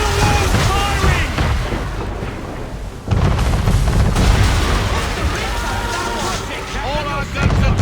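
Heavy naval cannon fire from a man-of-war warship in the Assassin's Creed 3 game, a dense barrage of deep booms and rumbling blasts that dips briefly before resuming, with shouting voices mixed in.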